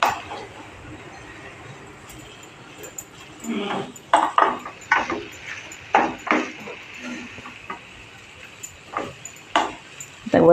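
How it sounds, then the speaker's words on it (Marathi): A lid is set on a pot of cooking apple jam, producing a run of sharp metallic clanks and clinks at irregular intervals against a quiet kitchen background. "मी त्याच्यावर झाकण टाकणार आहे"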